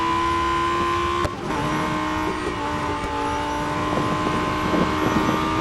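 An Audi R8 LMS GT4 race car in the Real Racing 3 video game roars with a steady, loud engine tone, a brief dip in pitch as it shifts or brakes, then keeps going under a constant wind-like rush.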